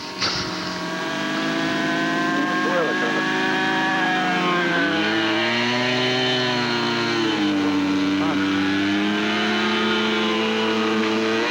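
The engine of a model airplane with flaps deployed whines steadily at high pitch, its tone rising and wavering as the plane takes off and climbs, with a voice speaking over it.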